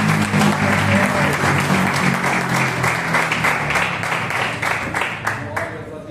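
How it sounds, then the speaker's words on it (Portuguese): A large church congregation applauds steadily, dense clapping filling the space for several seconds before thinning slightly toward the end. "Você pode aplaudir o Senhor."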